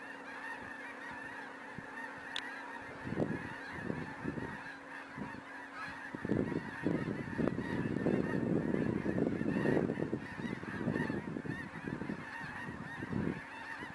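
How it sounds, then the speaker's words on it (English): A large flock of geese honks continuously from a short distance, the calls growing denser and louder midway through, over a steady outdoor hum. "You see those white things? There are birds."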